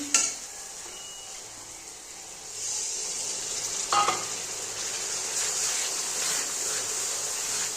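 Chicken masala for chicken kosha fries and is stirred in a pan, a steady close sizzle with a brief scraping stir around the middle and spatter flaring again afterward.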